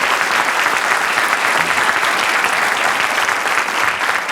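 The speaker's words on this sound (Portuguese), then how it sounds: "Uma salva de palmas para o Ricardo." A studio audience breaks into steady, dense applause on a Portuguese comedy show, loud and continuous throughout without pause.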